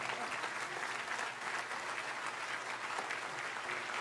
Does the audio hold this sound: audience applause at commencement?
yes